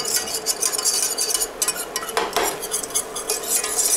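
Flour stirred in a pan while milk is added for béchamel sauce, a steady scraping and clinking of a utensil against the pot with soft sizzling underneath, close and alone.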